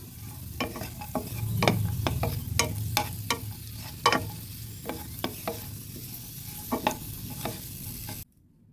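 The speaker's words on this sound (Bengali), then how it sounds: "কাজু কিশমিশগুলো ভেজে তুলে নিলাম" Stirring strokes scrape and clink in a pan of cashews and raisins frying in ghee, over a low continuous sizzle, close up and without speech, ending abruptly in silence.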